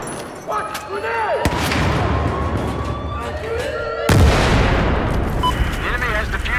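A grenade blows up amid gunfire in Battlefield 4: two sharp, loud blasts crack through a dense, rumbling battle din of shots and echoes, with voices calling out over the chaos.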